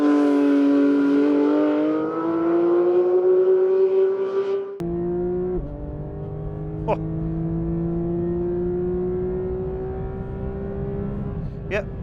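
A Porsche 911 GT3 RS, a 518bhp track car, accelerates hard with a loud, rising engine howl. One sharp gear change cuts in midway and the note climbs again, with a brief exclamation from the driver.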